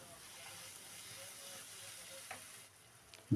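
Rice frying with spices in a pan for a Bengali jackfruit and fish-head dish makes a quiet, even sizzling hiss, with one faint stirring scrape and a sharper knock right at the end.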